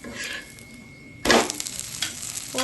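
A rice uttapam fries in oil on a pan with a steady quiet sizzle, then a sudden louder crackling burst as more oil is added around the edge, followed by continued hissing and no talking.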